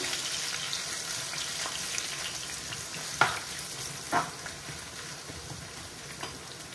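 Sliced onion frying in oil in a pan for a green beans curry, a quiet steady sizzle with a couple of brief clinks from the utensil.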